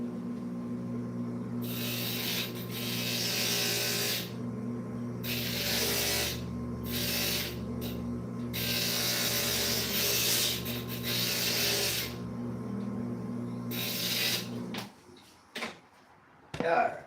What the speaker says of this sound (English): let me grind this up a little bit